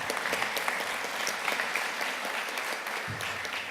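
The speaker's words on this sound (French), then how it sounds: "Frédéric Pszybilski, applaudissements s'il vous plaît." Applause from a conference audience at an automotive industry plenary session, a continuous crackle of many hands clapping at moderate level, with a brief low thump near the end.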